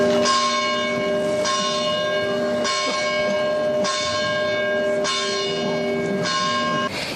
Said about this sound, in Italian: 22 rintocchi di campane, tanti quanti i suoi anni, accolgono l'uscita del feretro.